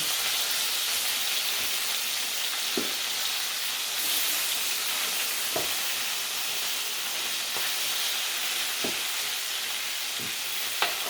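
Steady sizzling of a pork chop or chicken frying in a pan, with occasional sharp pops and crackles breaking through the continuous hiss.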